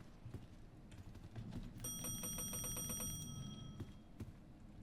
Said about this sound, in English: I think something should come out and eat you if you ring the bell too many times.